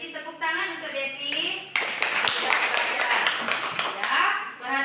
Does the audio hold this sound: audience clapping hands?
yes